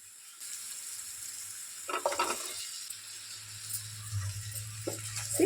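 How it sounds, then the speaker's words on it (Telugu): Onions sizzle steadily in a hot pan for a banana fry, a constant frying hiss with a few louder crackles and light stirring scrapes close by. "ఇలా ఉల్లిగడ్డ ఫ్రై అయిన తర్వాత"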